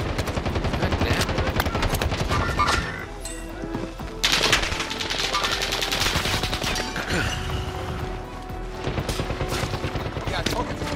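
Call of Duty Modern Warfare gameplay with dense bursts of automatic gunfire and rapid shot volleys, loud and continuous, with brief pauses and overlapping voices of players talking.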